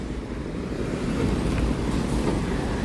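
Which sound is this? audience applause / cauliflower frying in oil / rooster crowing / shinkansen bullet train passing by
shinkansen bullet train passing by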